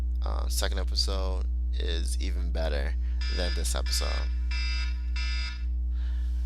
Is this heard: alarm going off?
yes